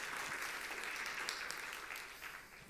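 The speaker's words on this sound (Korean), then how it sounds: "힘찬 박수 부탁합니다." Congregation applauding during a Sunday church service, a steady wash of many hands clapping at moderate volume that tapers slightly toward the end.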